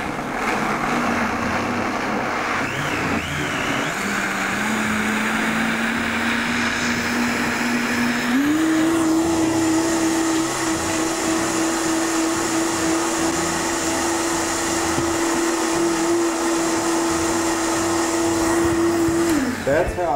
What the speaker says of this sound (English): Now I'm going to put this all in the Vitamix and turn it down here and start out on low.